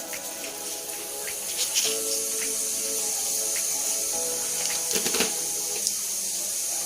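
Steady crackling sizzle of cumin seeds in hot oil, close and continuous, with a few sharper pops and spatters toward the end.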